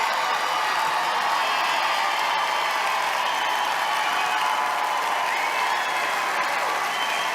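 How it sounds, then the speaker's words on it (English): A large CPAC crowd applauding, a dense, steady wash of clapping that holds at an even level throughout, with no talk over it. "Some lady is filming the dark crowd behind her that are applauding that Trump won"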